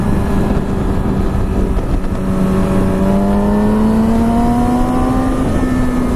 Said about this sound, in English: let me downshift real quick